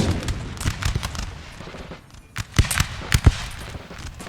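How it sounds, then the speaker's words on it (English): Artillery fires a barrage in the Napoleonic battle game Napoleon Total War, a rapid series of booming cannon reports and sharp cracks, some clustered close together, over a rumbling battlefield background. "Focus the artillery and give barrage."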